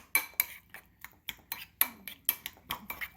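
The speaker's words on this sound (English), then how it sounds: "I'm gonna add some of that fresh rosemary here. And I'll just mix them really well." Minced garlic and fresh rosemary being mixed together, heard as a quick series of light utensil clinks and taps against a bowl, about a dozen close, crisp hits in irregular rhythm.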